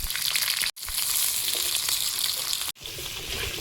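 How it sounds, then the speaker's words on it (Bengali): Potatoes fry in hot oil with whole cumin seeds and slit green chillies, a steady, loud sizzle filling the kitchen, briefly cut off twice by sharp edits before resuming. "আলুটা ভাজা হতে থাক।"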